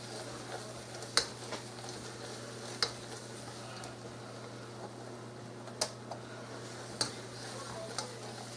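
Fresh apple pie filling cooking on a stovetop over low heat, a faint steady simmering hiss with a few sharp clicks of a spoon against the pot.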